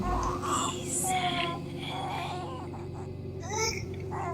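A voice imitates a baby crying with short, high, whiny wails in several bursts, close but soft, over a low steady hum.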